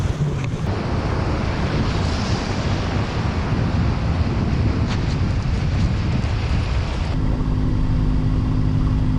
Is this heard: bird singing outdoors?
no